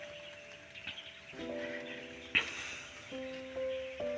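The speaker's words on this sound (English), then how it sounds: "You can hear mostly nature, birds, humming of the birds," Countryside birds sing and chirp in quiet surroundings, with several clear whistled notes and short calls coming and going, fairly faint and without talk.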